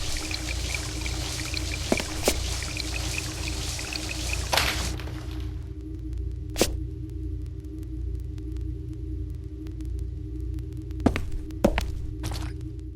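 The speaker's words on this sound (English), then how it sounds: "I guess someone must have left the water running. Bathtub seems to be overflowing" Running water pouring from an overflowing bathtub in the Nintendo DS horror game Nanashi no Game: a steady trickling pour over a low hum for the first few seconds, then fading to a quiet drone broken by a few faint clicks.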